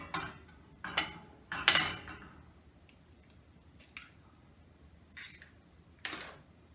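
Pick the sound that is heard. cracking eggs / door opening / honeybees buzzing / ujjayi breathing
cracking eggs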